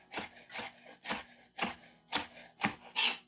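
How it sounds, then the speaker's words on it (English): A knife slicing bell peppers into julienne matchsticks on a cutting board, seven crisp rasping strokes in an even rhythm about half a second apart, close and clear with no talking. "fairly medium julienne or matchstick. And I'll do the rest of the peppers."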